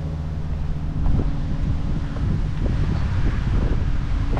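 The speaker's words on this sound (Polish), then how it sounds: "Nie, wiatr." Steady wind buffets the microphone with low rumbling gusts, moderately loud and continuous, with no voices.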